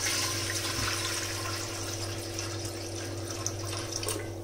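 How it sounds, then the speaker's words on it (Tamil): Water runs steadily with a bright splashing hiss, poured into an idli pot, continuous for a few seconds with no voices. "இதில் தண்ணி ஊற்றிக்கலாம்"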